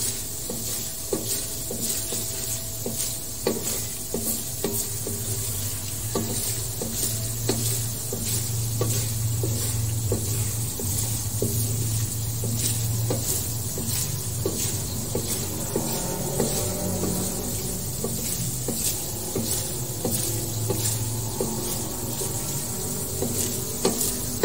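Coconut milk cooking down in a pan into blondo for carp bait makes a constant bubbling sizzle with frequent short clicks and pops and occasional stirring sounds, close and without speech.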